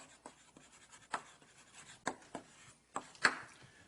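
Chalk writing on a classroom board during a circuits lecture: a series of irregular taps and scratchy strokes, fairly faint, with no talking.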